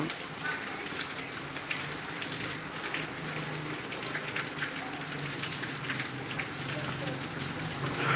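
Heavy rain, just beginning to ease, pours down in Tangail as a steady, even hiss of drops on surfaces that holds unbroken throughout and grows slightly louder at the very end.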